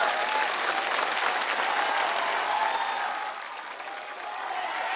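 Sustained, dense applause from a large studio audience for a singer on the televised singing competition I Am a Singer 2015, steady and loud throughout and easing slightly toward the end.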